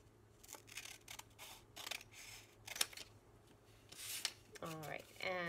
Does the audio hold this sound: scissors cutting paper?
yes